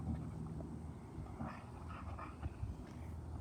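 Dogs close by, with soft whimpers, small yips and panting over a low steady rumble of background noise, faint and scattered.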